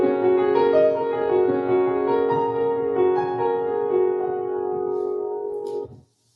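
Solo piano plays a piece with the melody carried in the left hand and a softer right-hand part on the black keys, sustained pedalled chords ringing steadily for about six seconds before stopping.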